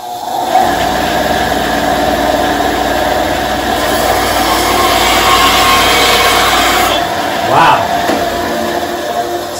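SKIL 9-inch 120-volt bandsaw running and cutting a one-inch piece of wood guided by a miter gauge, a loud steady motor whine with the blade hissing through the cut close up, ending in a brief change near the end.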